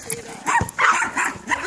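A puppy barking in short yips mixed with a person talking close by, brief and busy.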